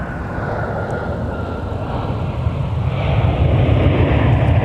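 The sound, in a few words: UPS Airbus A300 jet landing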